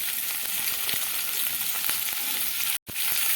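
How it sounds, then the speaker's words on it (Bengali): Onion fries in oil in a pan with a dense, continuous sizzle and light crackles, broken briefly by a sharp cut-out just before the end. "পেঁয়াজটা দিয়ে আমি এক মিনিট পেঁয়াজটাকে ভালোভাবে ভেজে নেব"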